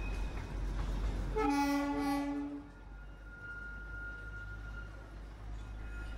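The Darjeeling toy train rumbles along with a continuous low mechanical drone, then sounds a loud, sustained multi-tone horn blast lasting about a second, followed by a fainter high whistle tone over the ongoing running noise.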